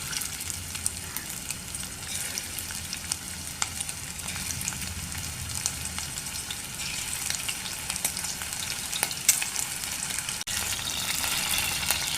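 Steady, crackling sizzle of prawns frying in hot oil, continuous and close throughout with no voices.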